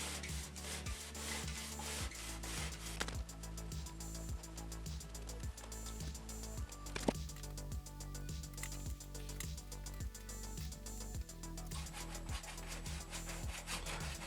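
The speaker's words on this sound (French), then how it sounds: "on coupe des petits morceaux d'isolant" A handsaw rasps through small pieces of mineral wool insulation in steady back-and-forth strokes, close and even, each pass a dry rubbing scrape repeated throughout.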